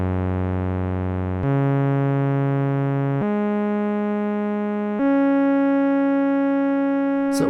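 A Moog synthesizer's subharmonic oscillator channel plays a sequence of four steady sustained tones, each jumping to a new pitch. The tones are buzzy, harmonically rich, loud and close, with no talking.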